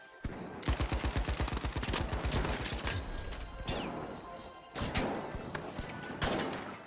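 Rapid bursts of gunfire fill a shooter video game round during a Smoking Guns event with a heavy-class weapon, dense repeated shots running almost continuously, with louder flurries near the end.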